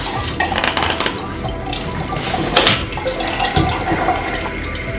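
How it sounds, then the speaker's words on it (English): Water bubbling and flowing through a straw in a homemade balloon water pump, a close, continuous splashy gurgle with clattering knocks and a sharper hiss midway, no speech. "You will see that water flows through the straw."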